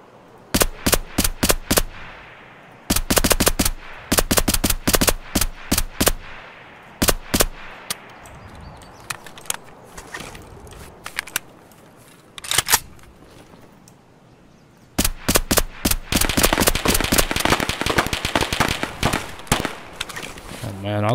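Rapid gunfire in the Escape From Tarkov shooter game, in a woods map: loud, sharp bursts of automatic and single shots come in clusters separated by quieter gaps, with a voice heard briefly.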